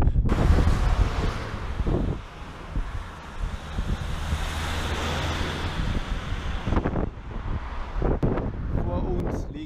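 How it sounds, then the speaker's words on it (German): Wind gusts buffet the microphone on a riverside bike ride near Chur along the Rhine, a loud broad rumbling roar throughout with brief louder bursts. "wie ihr wahrscheinlich hört, seit meinem Rast ist es schon ein bisschen windiger geworden"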